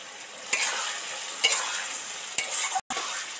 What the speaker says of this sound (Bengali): এই মশলাটা তেলের মধ্যে দিয়ে দিচ্ছি